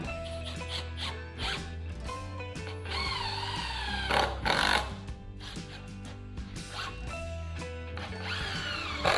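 A power driver sets screws into a barn board during repairs to a damaged barn, giving close whirring bursts that rise and fall between short pauses.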